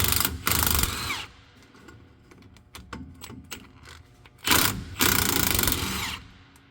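A power tool removes 15 mm bolts on a Dodge Ram during a U-joint replacement, with two loud close bursts of whirring, rattling impact separated by quieter clicks and handling noises.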